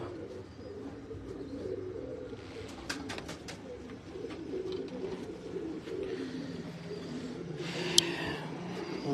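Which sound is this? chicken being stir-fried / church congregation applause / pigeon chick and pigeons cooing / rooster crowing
pigeon chick and pigeons cooing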